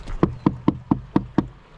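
Knocking on a door at a tropical fishing spot in Indonesia: six evenly spaced, sharp, close knocks in under two seconds, with no talking.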